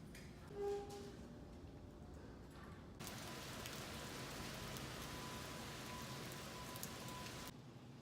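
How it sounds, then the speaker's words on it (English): Heavy rain falling outdoors, a constant close hiss of drops on surfaces that swells abruptly louder midway and holds steady before easing slightly near the end, with no talking. "it's raining really hard"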